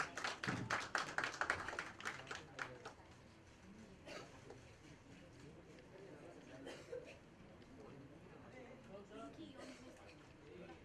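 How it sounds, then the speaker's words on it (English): An audience at a live game-show event claps for a winner. A quick burst of close, crisp claps fills the first few seconds, then fades into murmuring chatter and scattered taps. "All right, let's give her a round of applause."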